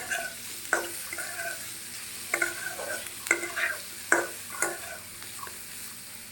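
Jackfruit pieces fried with spices in a pan, heard as a low steady sizzle broken by sharp scraping clicks of a spatula stirring at irregular intervals, close and alone without talk.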